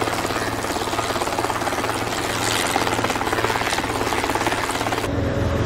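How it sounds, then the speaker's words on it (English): A rescue helicopter's rotor thumps rapidly and steadily, loud and close, with a constant engine drone throughout. "Rescue helicopter."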